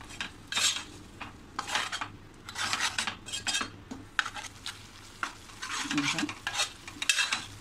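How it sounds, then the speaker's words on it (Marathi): Egg curry masala sautéing in a pan, with repeated scraping and stirring strokes of a utensil against the metal and a soft sizzle underneath, close and steady with no talking. "हा मसाला सुद्धा आपण छान असा 2 मिनिटं फक्त परतायचा आहे, जास्त आपल्याला त्याला परतायचं नाही आहे."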